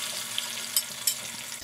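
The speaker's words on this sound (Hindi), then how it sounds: "अब हम इसमें डालेंगे 3 अदद टमाटर।" Tomatoes added to lightly browned onions for beef yakhni degi biryani, making a steady, fairly loud sizzle with a few faint clinks and crackles, and no talking.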